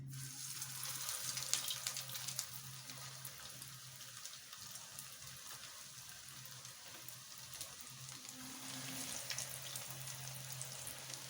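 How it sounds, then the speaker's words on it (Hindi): Chicken potato rolls frying in moderately hot oil give a faint, steady hiss and crackle that carries on evenly throughout, with no voices. "नाज़रीन, मैंने इसमें ऑयल डाल दिया है और ऑयल गर्म हो चुका है। अब मैं इसमें रोल डालने लगी हूँ।"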